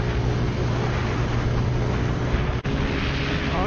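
A 2018 Venom X22 125cc motorcycle runs at full throttle on a road, a constant loud engine drone mixed with heavy wind roar, with one brief dropout near the end.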